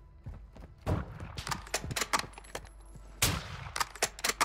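Gunshots in a video game, a quick irregular string of sharp cracks with one louder burst near the end, close and prominent.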